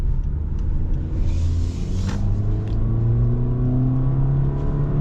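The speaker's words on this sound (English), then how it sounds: "Now full throttle, that's where this, you know, definitely has that CVT experience" A 2026 Honda HR-V Sport with a CVT accelerates at full throttle, its engine holding a steady droning whine that rises slowly in pitch under cabin rumble, heard from inside the car with no talk.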